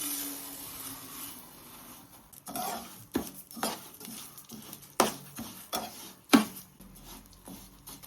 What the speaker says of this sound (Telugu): ఫస్ట్ మినప్పప్పును వేసుకుని వేయించుకోవాలి